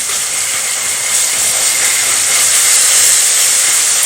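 A ginger, garlic and coriander paste sautés on very low heat in a pan, giving a loud, steady frying hiss and sizzle that holds unbroken throughout, with no talking.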